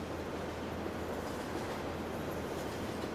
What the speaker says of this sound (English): This is like a real freight train. It's not like the cheesy FS19 trains we normally see.